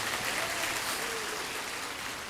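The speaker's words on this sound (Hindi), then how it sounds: "तो हमारे एक बार ताली बजाने चाहिए इनके लिए।" An audience at a religious discourse by Shri Devkinandan Thakur Ji claps in sustained, dense applause, loud and even throughout.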